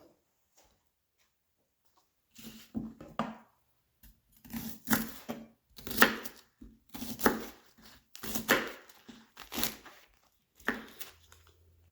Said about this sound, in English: we've got our bok choy chopped up